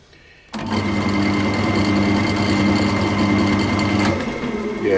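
An off-centre bowl spins on an eccentric chuck on a wood lathe at low speed, a steady mechanical whir with a rhythmic wobble pulse kicking in abruptly and running evenly before easing slightly near the end.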